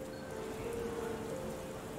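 Rain falls steadily in the Sherlock Holmes: The Awakened video game, a soft, even patter under a faint sustained musical tone, quiet and continuous.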